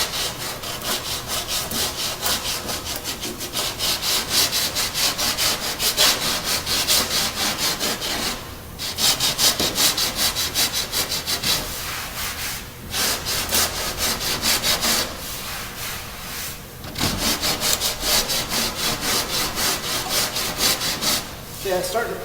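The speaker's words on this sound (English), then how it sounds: "You notice how fast it's sanding off." A hand sanding block works over Bondo body filler on a car panel, giving steady, close rasping strokes in long back-and-forth runs with brief pauses between passes.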